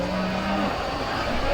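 Limousin cattle in the judging ring at the Royal Highland Show give one drawn-out moo, clear and fairly near, and a fainter second call follows over a murmuring crowd.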